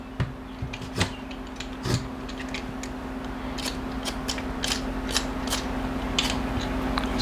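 A peeler scrapes repeatedly across raw potatoes for bangers and mash, making quick rasping strokes over a steady background hum, fairly close and moderately quiet.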